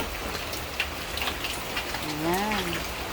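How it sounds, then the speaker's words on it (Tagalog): Heavy rain pours onto a rooftop in a close, dense patter, with a faint voice and other brief background sounds partly heard under the downpour. "Ayan, lumakas na naman ang ulan."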